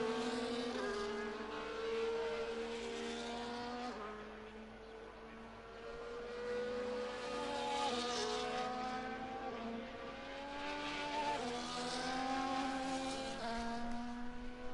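Race cars in a sim racing game at the start-finish line after a chicane, engines whining through shifting pitches as they pass and fade in overlapping waves across the stretch, with no voices.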